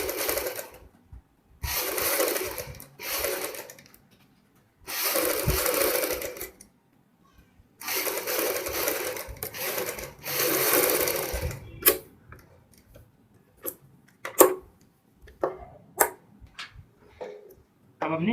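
A sewing machine stitches a curved line on a kurti high-neck collar in several short bursts of rapid whirring, separated by pauses, followed by quieter clicks and handling sounds.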